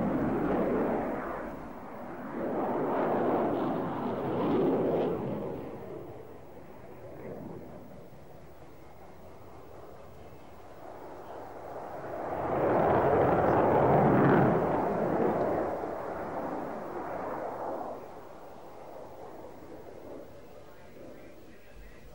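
A MiG-29 jet fighter performs a tail-slide manoeuvre, its engine roar swelling and fading in two broad, distant surges under a narrating voice.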